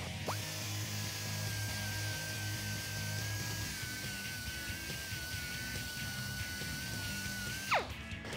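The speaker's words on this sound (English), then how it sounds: "I'm just gonna clean this up with a grinding wheel just to take the sharp edges off" Grinding wheel running steadily against a freshly cut steel stud from a 2019–2021 RAM 1500 lift kit install, taking off sharp edges; a sustained, fairly loud whine that holds for several seconds, then stops with a falling pitch.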